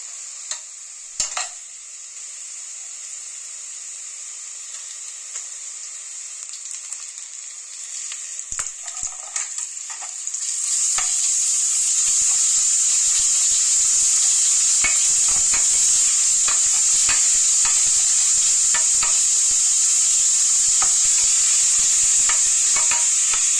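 Ginger garlic paste fries in a pan of oil for a goat liver curry. At first the sizzle is soft with a few utensil taps, then it turns into a loud, continuous crackling hiss with rapid scraping stirs.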